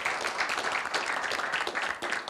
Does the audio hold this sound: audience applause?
yes